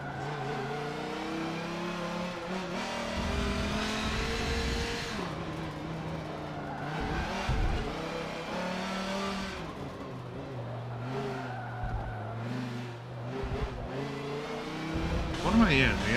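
An SRT car in the Forza racing game revs and accelerates through a race with changing engine pitch and occasional tire squeal, while a person talks over it.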